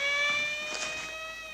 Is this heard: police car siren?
yes